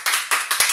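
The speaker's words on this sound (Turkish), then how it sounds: "Bir alkış daha." A few sharp hand claps in quick succession at a children's gymnastics class, close and fairly loud, with no talking.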